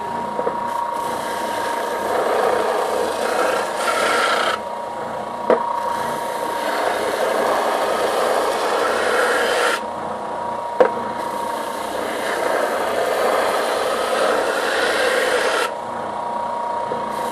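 Sandpaper rubbing across a wooden bandsaw box, a loud continuous abrasive scratching in long sustained passes broken by short pauses and a couple of sharp knocks.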